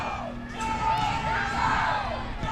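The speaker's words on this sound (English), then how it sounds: "Volunteer crowd trying to come alive here" A home crowd of Tennessee Volunteers fans cheers in Knoxville during a game against Mississippi State, a steady roar with whoops and shouts rising and falling around a commentator's voice.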